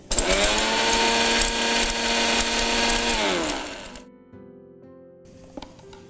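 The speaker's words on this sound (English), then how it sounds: "Let's grind this, the roasted spice that we have kept aside for cooling." An electric grinder pulverizes roasted spices with a loud, dense motor roar and rattle for about four seconds, then winds down in a falling hum. A faint clatter follows.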